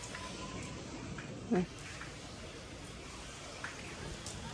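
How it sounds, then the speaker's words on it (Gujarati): Steady rain hisses evenly throughout, with a faint thud and a few soft drips breaking through. "તો વરસાદ આવ્યો"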